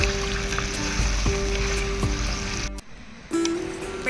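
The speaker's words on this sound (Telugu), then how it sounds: "డైరెక్ట్గా మనం చికెన్ వేసేసుకుందాం. ఒకసారి కలుపుకుందాం." Raw chicken tipped into a clay pot over a wood-fired stove and stirred, a steady loud sizzle with scraping strokes, then a brief drop to near quiet before the frying hiss surges back.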